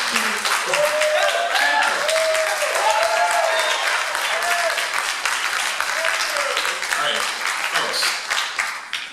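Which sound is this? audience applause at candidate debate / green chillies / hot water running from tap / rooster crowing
audience applause at candidate debate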